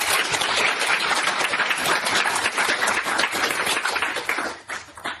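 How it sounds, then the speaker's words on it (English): An audience at a data summit breaks into sustained applause, many hands clapping in a dense, loud, continuous patter that tapers slightly near the end. "Let's give them a round of applause again"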